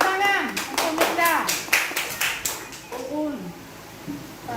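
A classroom of students claps briefly for a classmate, a few quick bursts of hand claps with a teacher talking over and between them.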